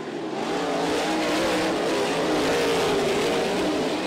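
USAC AMSOIL National Sprint Cars roaring around the Ocala Speedway dirt oval, a dense, loud, continuous engine howl with rising and falling revs from several cars.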